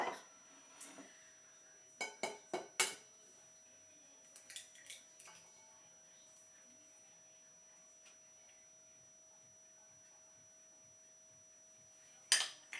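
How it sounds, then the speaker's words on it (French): Eggs are cracked one by one and the whites separated from the yolks into bowls. A quick cluster of sharp taps and clinks comes out of near silence, then a long quiet stretch and another tap at the end. "je vais casser mes œufs un à un. Je vais séparer les blancs des jaunes"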